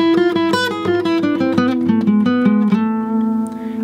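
Gypsy jazz guitar playing a quick melodic lick, a run of bright picked notes with clear attacks that ends on a held, ringing note, close and alone.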